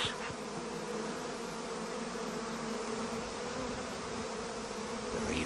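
A dense, continuous buzz of many bees, close and steady, droning without pause.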